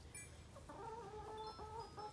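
Backyard chickens cluck quietly nearby in a short run of tonal, repeated calls over a low outdoor background.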